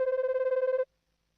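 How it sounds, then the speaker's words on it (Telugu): A cartoon telephone rings in one rapid electronic trill lasting under a second, loud and clean, then stops abruptly into silence. "ఫోన్ రింగ్ అవుతోంది"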